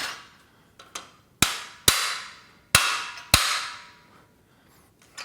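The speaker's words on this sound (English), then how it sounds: "And get our hammer." A hammer strikes metal parts while a Body Solid EXM3000 gym machine is being assembled, about six sharp ringing blows at uneven intervals, a couple of them light, the rest hard and close in a quiet room.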